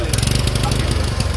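The engine of a rice transplanter machine runs close by, chugging in quick, even pulses with a loud low rumble, and a voice may be faintly heard under it.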